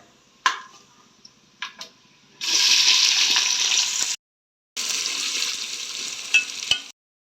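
Onions hit hot oil with a loud, steady sizzle after a few clicks and taps, then frying continues after a short pause.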